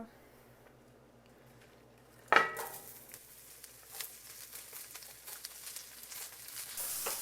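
Stir fry being stirred in a smoking hot pan, a sudden loud sizzle that settles into steady crackling and spattering with light scraping, close by.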